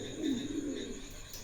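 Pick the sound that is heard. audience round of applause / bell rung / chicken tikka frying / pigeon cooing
pigeon cooing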